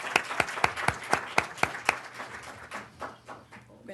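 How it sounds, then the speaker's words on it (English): Applause at a legal-education seminar on solo practice, with regular sharp claps ringing out for about two seconds before fading into scattered softer clapping and room noise. "Can we give Nkoyo and Joanna some round of applause, please?"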